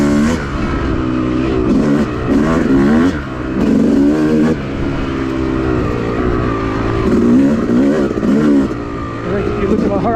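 Yamaha YZ dirt bike engine on a woods trail, throttle blipped repeatedly so the revs rise and fall in several loud, close surges, with a rider's voice over it.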